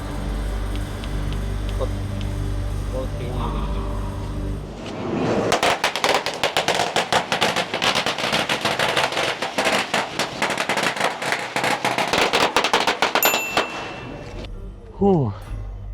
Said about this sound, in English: There are the firecrackers we light as an offering today.